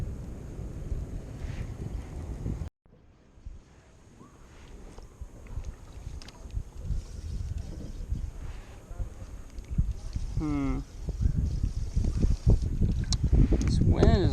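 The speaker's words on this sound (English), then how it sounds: "This wind is definitely the toughest thing right now." Gusty wind buffets the microphone on the Guadalupe River at New Braunfels, Texas, during spring bass fishing from a boat, a rough rumbling roar that briefly drops out, then builds louder and more turbulent toward the end.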